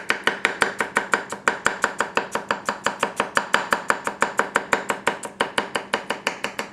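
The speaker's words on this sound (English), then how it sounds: "Now keep in mind, I am chopping for a reason." Celery being chopped on a board with a Tsutomu Kajihara 210mm gyuto knife, a fast, even run of crisp knife strikes, about six per second, close and steady with no talking.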